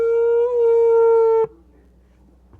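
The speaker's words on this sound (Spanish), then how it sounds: "Y este es el sonido de un chofar muy pequeño." A very small shofar gives one steady, loud horn blast of about a second and a half with a slight waver, cut off sharply and followed by quiet room noise.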